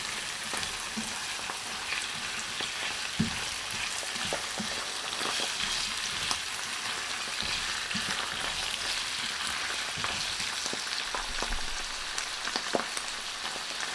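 Mushrooms frying in a pan for an Alfredo pasta sauce, a dense, continuous sizzle close by with occasional stirring clicks and taps scattered through, no talking.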